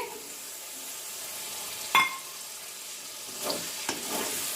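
Tomato paste frying with ginger and garlic in a pan for chicken curry gives a steady low sizzle, broken by a sharp utensil clink and a few stirring scrapes near the end.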